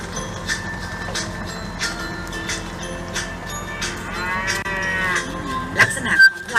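Murrah dairy water buffalo on a farm lowing in long, drawn-out moos that rise and fall, loud and close, with a few sharp knocks and rustles near the end and no talking.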